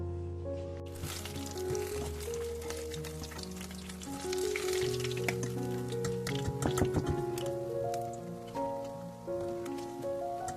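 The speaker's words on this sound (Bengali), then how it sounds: "এরপরে ফিশ ফ্রাইগুলোকে ভাজতে চড়িয়ে দেবো" Coated fish fry frying in a pan over low gas, a continuous crackling sizzle with scattered sharper pops, close and fairly loud beneath tonal background music.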